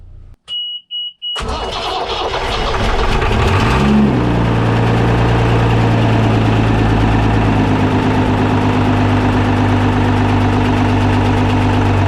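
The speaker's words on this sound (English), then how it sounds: "we're going to fire the engine up and see how she does." Ford Lehman 135 diesel engine cranks after a few clicks, catches and fires up, then settles into a loud, steady idle close by, running continuously with no talking.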